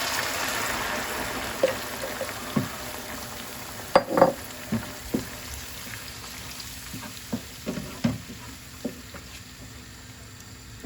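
Garlic fries in a pan for fellah köftesi, giving a steady close sizzle. Scattered sharp clicks and taps from a utensil against the pan cut through at irregular intervals, and no one speaks.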